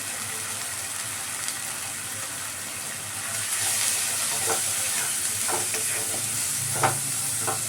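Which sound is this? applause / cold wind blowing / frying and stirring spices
frying and stirring spices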